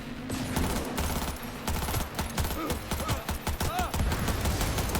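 Rifle fire in the video game Cyberpunk 2077 cracks in fast, dense bursts, loud and continuous across the whole stretch, with a game soundtrack rumbling underneath.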